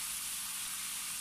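Tomatoes hit sautéed bitter gourd in a hot pan, giving a steady bright sizzle and hiss that runs evenly from start to finish with no voices.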